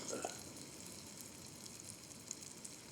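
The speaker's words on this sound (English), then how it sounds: "I'm already getting a little sizzle here" Food sizzles steadily in a hot pan, a soft continuous crackle with scattered tiny pops.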